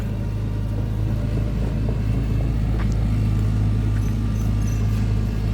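A Hitachi ZX130 excavator engine idles steadily with a low, constant rumble and hum, unchanging throughout, with faint outdoor background noise and no voices.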